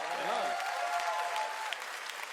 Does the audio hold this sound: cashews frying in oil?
no